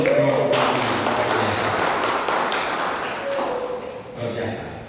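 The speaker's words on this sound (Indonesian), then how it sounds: "Kasih tepuk tangan dulu kelompok Tanjungan" A church congregation applauds a small group, a dense burst of clapping close by that fades toward the end while someone speaks over it through a microphone.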